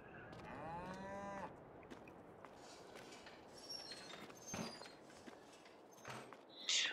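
Cattle in the video game Farming Simulator 22 let out a clear moo near the start, followed by quieter barn ambience with scattered thumps and clatter and further faint animal calls.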